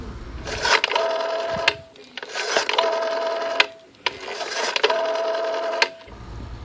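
A telephone is dialed to call the police in a radio drama, heard as three long, evenly spaced runs of mechanical whirring and rasping, each with a steady tone and separated by short pauses, loud and close.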